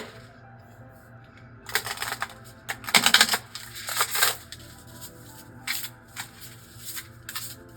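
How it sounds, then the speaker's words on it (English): Tarot deck being shuffled by hand, bursts of crisp riffling and card slaps in irregular runs, close and fairly quiet with no talk. "I would love to shuffle this here and see what we can learn."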